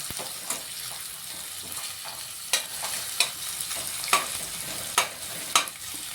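Chopped onions frying in a pan for mushroom Ambur biryani, a steady close sizzle broken by regular sharp scrapes of a spoon stirring every half second or so.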